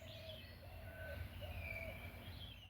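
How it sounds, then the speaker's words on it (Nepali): Faint bird calls drift in from a distance in the Chitwan jungle, a few thin whistled notes repeating over a low rumbling background. "चिरबिर आवाज चाहिँ यहाँबाट कस्तो मजासँग सुनिरहेछ।"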